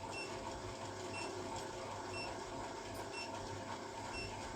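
A sewing machine stitches the curved edge of a school uniform collar, a steady, continuous mechanical whir that runs unbroken and close, with no talking.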